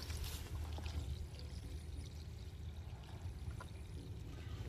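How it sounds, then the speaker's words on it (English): Dirty pond water is dumped from a bucket onto the ground, a steady low pouring and splashing rush heard close, faint overall, with no talk. "what I'm gonna do is just dump it out over on the side."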